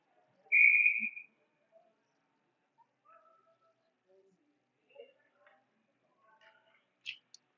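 A referee's whistle gives one sharp, loud blast at a college ice hockey game, followed by faint, scattered arena noises.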